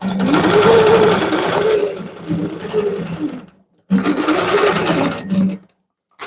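Sewing machine stitching dense quilting on a quilt, a loud, steady mechanical whir that runs for several seconds, stops briefly, then starts again before cutting off near the end.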